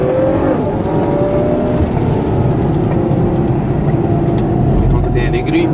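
A 2014 Ferrari FF accelerates on a racetrack with a loud, steady engine roar and heavy road and wind noise. Someone talks over it the whole time.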